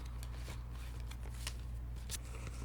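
Cards are handled and slid one onto the next in a quiet close-up setting, giving soft brushing and flicking sounds in a few short bursts over a low background hum, with no talking.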